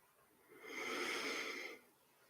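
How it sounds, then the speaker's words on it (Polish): A person draws one slow, deep breath, a soft airy swell lasting about a second, close and quiet with no talking. "Weź głęboki oddech."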